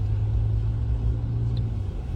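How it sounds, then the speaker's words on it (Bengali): Car driving slowly on a muddy, badly broken mountain road under construction on the way toward Jispa; a steady low engine rumble and road drone heard from inside, continuous and moderately loud with no talk. "তবে আমাদের গাড়ি এখন এগোচ্ছে।"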